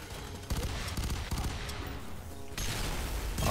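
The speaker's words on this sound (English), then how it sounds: "Who's shooting me?" Gunfire in the shooter F.E.A.R. 3 rattles in rapid bursts, close and loud, with short pauses between volleys over constant battle noise.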